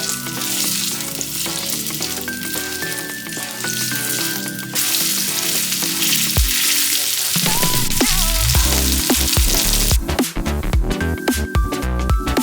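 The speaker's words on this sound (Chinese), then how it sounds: "然后我们现在开始煎我们的猪排了，在锅中加入一些油，油热后就可以放入我们的猪排了。" Iberico pork chop frying in hot oil in a pan, a loud steady sizzle that runs throughout, with scattered clinks and scraping from cookware partway through and no voices.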